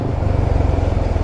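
Close, steady engine drone of a motorbike riding along a road on an off-road route, with a continuous low rumble and no talking.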